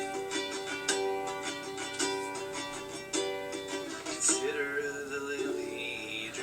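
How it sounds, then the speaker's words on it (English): Ukulele dummy track played back from a recorder in the room, strummed chords at moderate volume with a slightly distant, roomy quality, a brighter sliding sound appearing near the end. "So the dummy track is just my ukulele and me."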